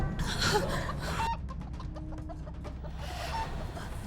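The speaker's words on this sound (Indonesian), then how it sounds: "malam-malam ada ayam berkokok sih?" Clucking chicken sounds, fairly close, with a brief break of scattered clicks and a faint tone in the middle before the clucking resumes.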